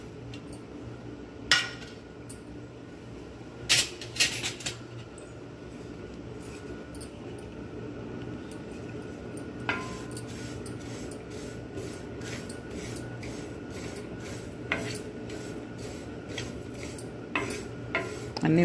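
Coriander seeds, cumin, sesame seeds and fenugreek dry roasting in a pan, with quiet faint crackling and repeated sharp clinks and scrapes of a spoon against the pan at irregular intervals.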